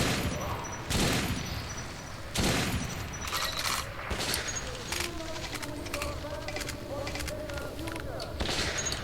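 Riot gun fire in the shooter Metro 2033 on PC: several heavy booming shots spaced a second or two apart, with someone talking over and between them.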